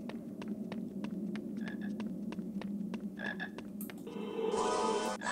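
Chocolate frog in a Harry Potter video game croaking in a steady series of short, evenly spaced croaks over a low hum, moderately loud, followed by a brief bright game sound at the end.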